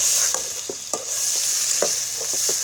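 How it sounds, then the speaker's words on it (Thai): Curry chili paste stir-frying in a pot, with a steady sizzle and scattered scraping stirs of a spoon or spatula against the pot, close and continuous, with no voices. "ผัดให้หอมนิดนึง"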